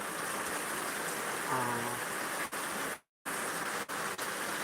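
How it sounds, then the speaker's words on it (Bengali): Heavy rain falls steadily as a dense, unbroken wash, loud and close, with no talk and a brief dropout near the end. "অনেক বৃষ্টি হচ্ছে"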